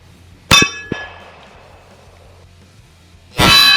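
Pistol rounds, including .45 ACP, strike a Walmart AR500 steel target hung on rope at a range, giving three sharp metallic clangs with ringing decay, two early in quick succession and a louder one near the end.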